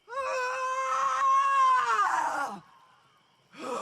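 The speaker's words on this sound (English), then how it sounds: "And with this primal screech" A woman's long, raw primal screech from the film I Care A Lot, loud and sustained with a rising then sliding pitch, breaking off and followed by a short pause before another cry begins.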